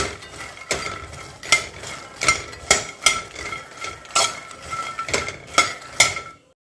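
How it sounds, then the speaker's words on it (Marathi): Makhana (fox nuts) roast in ghee in a pan while being stirred. A steady run of about a dozen rattling, scraping strokes sounds close by over a faint sizzle, then stops. "आता आपण हे गोड करणार आहे त्यामुळे मी तुपात भाजायला लागले"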